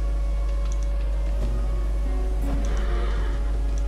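A horse whinnies in a video game, a short neigh rising over a constant low hum, with faint clicks scattered through.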